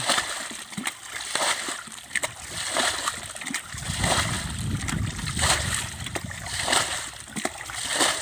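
Small fish splash in water, with repeated sloshing and brief splatters at close range, and a few faint voices in the background.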